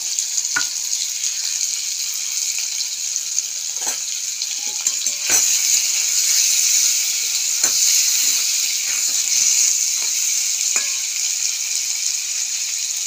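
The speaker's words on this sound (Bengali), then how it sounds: "কচুটা একটু ভাজা ভাজা না হলে হবে না, একটু সাঁতলাতে হবে।" Taro and potato sautéing with spices in hot oil make a loud, steady sizzle close by, broken by occasional sharp clicks and scrapes of stirring, with no voices.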